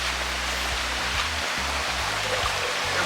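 Creek water rushes steadily after a flash flood, a dense continuous broadband wash with a low rumble underneath, close and constant for the whole stretch.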